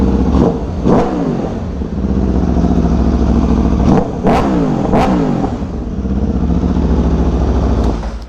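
An Aprilia RSV4 Factory motorcycle with its stock exhaust revs up close and loud. Its engine rises and falls in several sharp throttle blips over a constant growling idle, with no talking.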